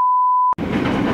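A steady electronic beep tone cuts off into the broad, rumbling rattle of a moving passenger train heard from inside a carriage, a close, loud, continuous noise with no talking.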